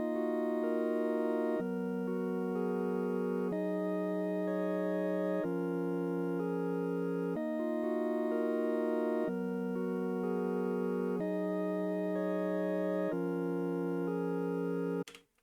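A synth melody for a hip-hop beat loops in a steady repeating pattern of sustained, bright tones, each phrase held for about two seconds, clean and alone with no voices, cutting off abruptly at the end.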